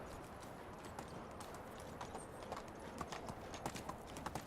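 A horse gallops in the medieval video game Medieval Dynasty, rhythmic clip-clopping hoofbeats repeating steadily and fairly close, with no talk over them.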